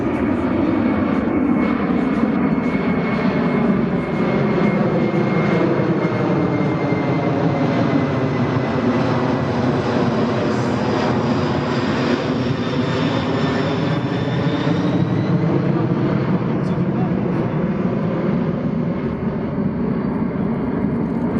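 A C-17 military transport plane flies slowly past at an airshow at approach speed, its loud continuous jet engine roar with a shifting whine that sweeps in pitch as it passes, steady and dominant throughout.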